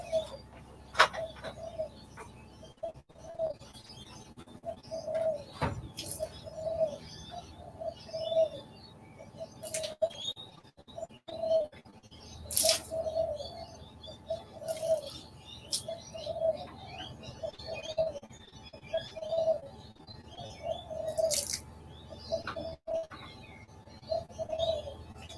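Pigeons coo in a steady, repeating rhythm from a nearby windowsill in a suburban front yard, with a few other birds chirping faintly in the background and no talk.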